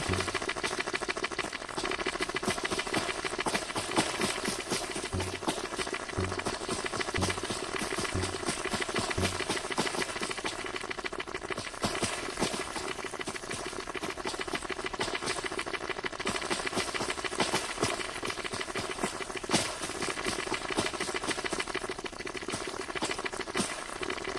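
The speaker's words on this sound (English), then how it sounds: "Tractor can be a little bit noisy." A continuous mechanical tractor engine drone in a video game, with a rattling patter, steady and moderately loud throughout, with no talking.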